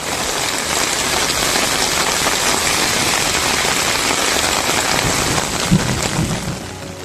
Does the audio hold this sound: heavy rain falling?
yes